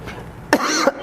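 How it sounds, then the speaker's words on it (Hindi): A single person coughs, two or three short, sharp, close bursts in quick succession, heard alone without speech. "अभी मुझे खांसी आई"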